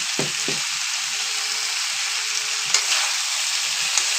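Broccoli and potatoes stir-fried with salt in a pan, a steady bright sizzle running throughout, broken by a couple of early low stirring knocks and occasional sharper spatters.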